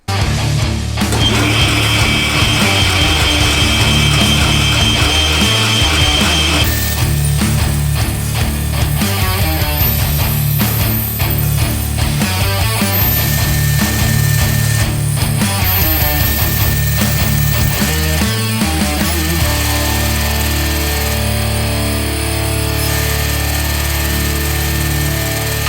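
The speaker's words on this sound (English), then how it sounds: "I'm just gonna cut them 2 corners out and that bit of batten out on the bandsaw" A bandsaw cutting two corners and a section out of a wooden batten for campervan cabinets, a steady loud motor whine with shifting cutting tones running through the whole stretch.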